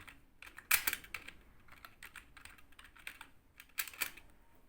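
Typing on a computer keyboard for a French text in Microsoft Word: quick, uneven bursts of close, crisp keystrokes with short pauses between clusters, and no talking.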